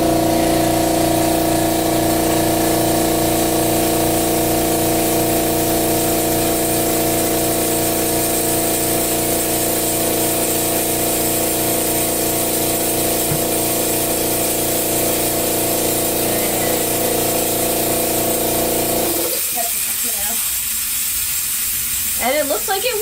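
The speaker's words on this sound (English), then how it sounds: "I'm going to turn on my compressor, so it may get a little loud." A small airbrush compressor runs close and loud with a steady buzzing drone and a pumping pulse. It cuts out near the end, leaving a brief hiss and some handling noise.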